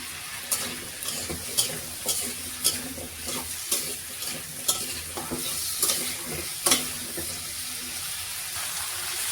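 Potatoes coated with turmeric fry in a pan under a continuous sizzle, while a spatula scrapes and taps the pan at a fairly regular rhythm, close and clear.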